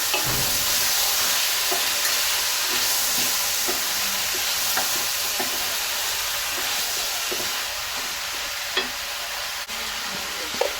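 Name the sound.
stirring Bangladeshi rohu fish curry with potatoes and beans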